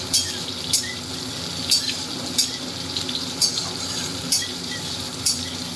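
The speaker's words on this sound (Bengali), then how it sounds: "আর এই যে তেলের মধ্যে ভাজি আমটা" Raw mango pieces frying in oil for Bengali tok dal: a soft, continuous sizzle with regular metallic scrapes of a spatula about once a second, close and unaccompanied by speech.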